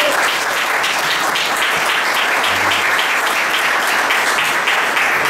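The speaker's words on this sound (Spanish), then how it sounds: "Y a quien le vamos a dar un fuerte aplauso es a Daniel Roncoli," Steady, dense audience applause fills the whole stretch at a strong, even level, a large crowd clapping continuously without pause.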